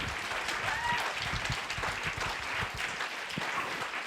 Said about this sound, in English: give a round of applause for Dr. Bell Hooks and Dr. Kevin Powell